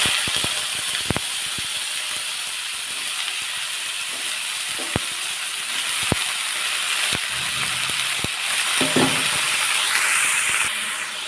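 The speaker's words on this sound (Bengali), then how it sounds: "দেখুন বন্ধুরা আমি প্রথমে তেলের উপর সজনে ডাঁটা আলু তুলে দিয়েছি" Drumsticks and potatoes frying in hot oil in a pan, a steady loud hiss and crackle throughout, broken by sharp clicks and knocks.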